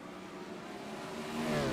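A race car accelerating hard off the green flag on an oval track toward turn one at I-55 raceway, engine roar steady and close, swelling louder near the end.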